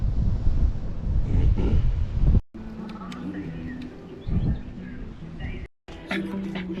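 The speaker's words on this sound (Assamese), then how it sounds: "পানীৰ শব্দ শুনি আছে চাগে আপোনালোকে, ফুল গেহেৰা আৰু বতাহও ফুলন বতাহ দি" Sea waves and gusty wind at Chapora Fort in North Goa, with wind buffeting the microphone and surf rumbling over the sound, while a person talks and faint birds chirp.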